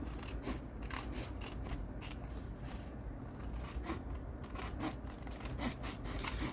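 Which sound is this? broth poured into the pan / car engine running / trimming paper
trimming paper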